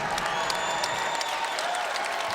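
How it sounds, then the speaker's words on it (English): A college basketball crowd in an arena cheers and applauds during a game, a steady, full roar of clapping and shouts with a commentator's voice under it. "And you can hear this crowd here in Lawler Event Center. They're liking this start."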